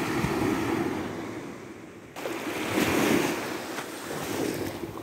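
Strong, cold ocean waves rolling onto an empty beach, a steady roar of surf that rises and falls in surges, mixed with gusts of wind buffeting the microphone.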